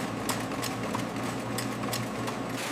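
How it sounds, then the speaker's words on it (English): Massive stainless steel vacuum deodorization tower running in a soap factory, a steady mechanical hum with a fast, regular rattling tick throughout, fairly loud and without voices. "The massive stainless steel tower begins operating."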